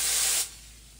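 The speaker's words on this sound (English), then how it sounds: "take this glass and spray some water on it" Water sprayed onto hot wood stove glass gives a loud, close hiss that cuts off abruptly after half a second, leaving a faint lingering sizzle.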